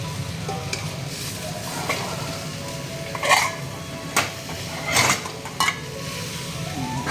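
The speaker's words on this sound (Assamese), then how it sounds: "নিমখত টেমাটো থৈ দিয়া, লৰাই দিয়া এতিয়া।" Tomatoes and salt sizzling in a pan while being stirred, a steady fry under several sharp scrapes and clinks of a utensil against the pan.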